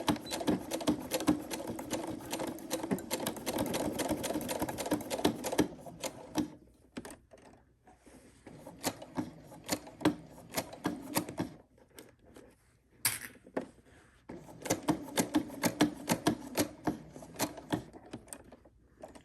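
Sewing machine stitching forward and reverse on a zipper pouch, a close mechanical whir and rapid needle clatter in bursts, with short pauses between runs.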